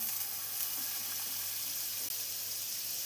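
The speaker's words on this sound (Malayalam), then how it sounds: "ഇപ്പോൾ ഒരു പാൻ വെച്ച് ചൂടായി വന്നിട്ടുണ്ട്. അതിലോട്ട് 1 ടേബിൾ സ്പൂൺ ബട്ടർ ചേർത്ത് കൊടുക്കാം." Butter sizzling in a hot pan as it melts, the start of a paneer mushroom masala, giving a steady, even hiss with no talk.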